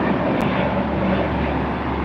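Steady, loud roar of widebody jet engines on a United Polaris jet at LAX airport, a continuous broadband rumble with no talking over it.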